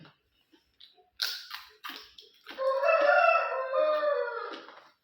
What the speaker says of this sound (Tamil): காலையில் இது எப்போவே விடிஞ்சு போச்சு, மத்தியானமே ஆக போகுது, இப்போ தான் கோழி கூவிட்டு இருக்கு